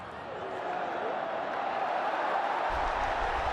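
A cricket stadium crowd at an India vs Pakistan T20 match roars in a steady, dense wash of noise. The roar holds loud and unbroken throughout, with a low rumble rising near the end.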